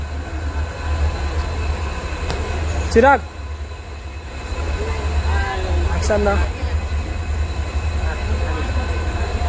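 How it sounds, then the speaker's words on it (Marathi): A train pulls into a station on the Konkan route, its low rumble steady throughout with a sharp squeal of brakes or wheels, while people talk nearby. "आपली ट्रेन आली आता आपट्यापर्यंत."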